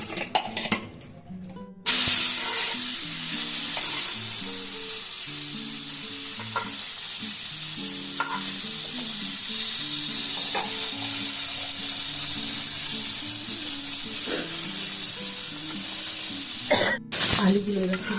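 Potatoes sizzle steadily in a pan of hot oil, a loud continuous hiss that starts after a short quiet opening and runs to the end, with soft melodic music playing underneath.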